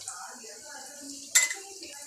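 A spoon works through a tomato and spice masala with turmeric and homemade masala powder in a pan, giving a steady soft scraping and stirring with one sharper metallic clink partway through.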